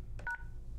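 Keypad tones on an ESI 45 business phone while entering a voicemail PIN: two short beeps in quick succession, the second holding briefly over a steady low hum.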